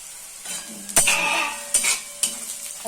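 Chopped garlic and ginger frying in oil for a dhaba-style tadka, a steady sizzle punctuated by several sharp metal spatula scrapes and clinks against the pan, close and clear with no talk.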